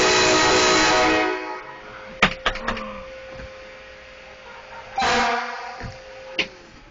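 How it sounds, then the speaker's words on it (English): A train-style air horn on a Delaware heavy rescue fire truck sounds one long, loud blast that cuts off abruptly. Short stuttering toots follow, then another brief blast and a final quick toot. "You driving, you gotta blow the horn."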